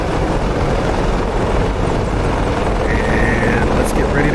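Apache helicopter in DCS World on the Syria map, a loud continuous rotor and turbine roar filling the whole stretch with steady broadband thrum and a faint whine rising near the end.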